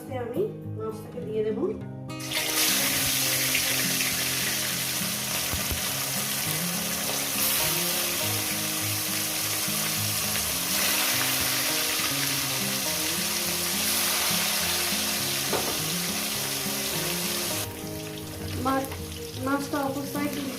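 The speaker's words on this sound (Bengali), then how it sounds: "মাছগুলো ভাজা হয়ে গেছে" Fish crackles and sizzles steadily in hot oil for a long stretch, a dense continuous hiss with voices heard faintly at the start and end.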